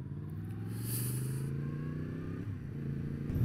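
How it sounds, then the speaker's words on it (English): Engine drone from a Triumph Bonneville T120 motorcycle passing on the road, a steady mid-level hum with faint whine that shifts in pitch as it goes by, no talking. "Oh, there's a Bonneville T120. Beautiful. Nice bike."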